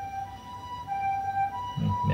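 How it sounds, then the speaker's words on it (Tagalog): An ambulance siren wails faintly in the distance with a steady high tone, brief and partly masked by nearby low thumps and room noise. "May ambulansya."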